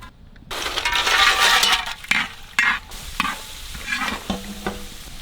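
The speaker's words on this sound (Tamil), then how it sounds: "முந்திரியும் திராட்சையும் பொரிச்சு எடுத்துக்கலாம்" Cashews and raisins frying in hot oil for mandi biryani, a bright crackling sizzle that surges then breaks into sharp pops and clinks of a stirring utensil against the pot.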